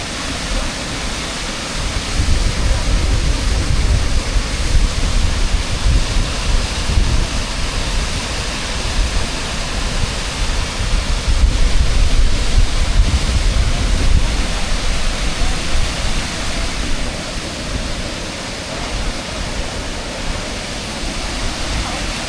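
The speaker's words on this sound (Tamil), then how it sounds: "தண்ணி அப்படியே ஃபால்ஸ் கொட்டுக்கு பாருங்கள்" Waterfall pouring into a forest river in British Columbia, a steady, loud broadband roar of rushing water holding constant throughout with no break.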